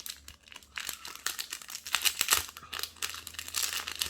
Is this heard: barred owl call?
no